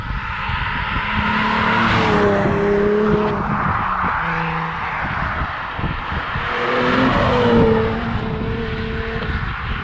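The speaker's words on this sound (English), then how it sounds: "So we're gonna insert a clip here of a drive-by." A Nissan 350Z with decats and a de-resonated Miltech catback exhaust drives past, its engine note rising loud as it nears, fading, then building again for a second close pass with shifting harmonic tones.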